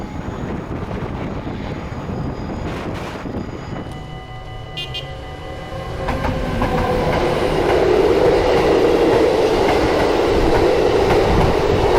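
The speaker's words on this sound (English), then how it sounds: "hearing the roar and feeling the ground rumble while waiting for the train to emerge" Train roaring past at close range, a sustained loud rumble with rising rail noise and clattering that swells and stays heavy toward the end, no talk.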